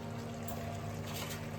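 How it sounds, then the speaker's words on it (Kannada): Chicken simmering in a pot of yogurt-based liquid for biryani, a faint, soft, steady bubbling with no talking. "ನೋಡಿ, ಚಿಕನ್ ಬೆಂದು ಕುದೀತಾ ಇದೆ."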